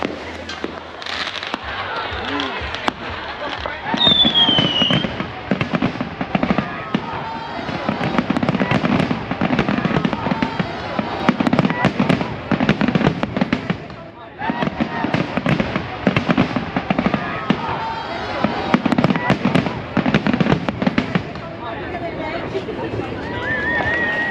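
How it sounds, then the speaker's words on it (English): Territory Day fireworks in Darwin, Australia, crackle and burst continuously, a dense rapid barrage of pops and bangs, with people chattering and exclaiming underneath. "What's the Territory Day firework?"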